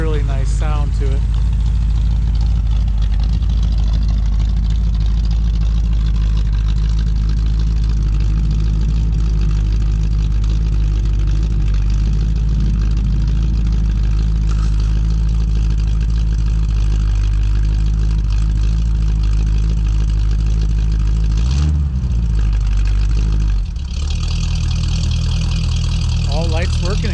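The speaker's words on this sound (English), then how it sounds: "Car does have a really nice sound to it." A 1964 Chevrolet Impala Sport Coupe with a 327 V8 idles with a steady low rumble, loud and close, with a brief blip of revs near the end and no talking.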